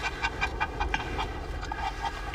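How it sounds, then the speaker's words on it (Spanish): A small dog pants in quick, steady rhythmic breaths, close and fairly quiet, with no one talking. "¿Te gusta el perrito?"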